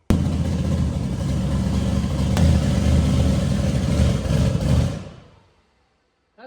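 A twin-turbo big-block engine in a Ford Fairmont revs hard and loud for about five seconds, a steady heavy roar up close, then cuts off abruptly and fades into near silence.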